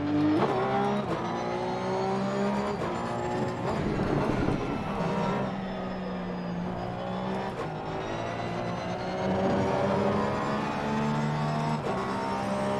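Porsche race car on the Zolder circuit in a sim racing game, a continuous engine drone with shifting pitch as it accelerates and changes gear, loud and steady with no talk.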